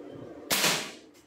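An air gun fires a single sharp shot during power testing, with a crisp crack that rings briefly and fades over a low background hum.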